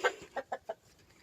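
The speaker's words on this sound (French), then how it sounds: "Une poule et le coq." A hen and a rooster cluck in a short burst: one sharp note, then three quick evenly spaced clucks, close by and moderately loud, with no talking.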